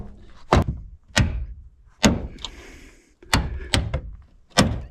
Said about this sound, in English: And now the pin, you gotta pound it out.